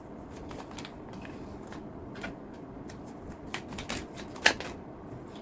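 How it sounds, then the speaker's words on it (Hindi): Tarot cards being shuffled by hand, a soft continuous riffling flutter with scattered sharper flicks and one crisp snap near the end, close and quiet with no talking. "कार्ड्स भी शफल नहीं हो रहे"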